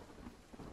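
Rain with low rumbling thunder in a video game, a steady broadband wash at moderate level with no voices over it.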